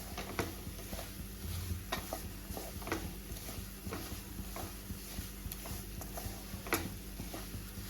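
Semolina roasting in ghee over a full flame, stirred steadily with a spoon: soft continuous sizzle under repeated light scraping clicks against the pan, quiet and close, no voices.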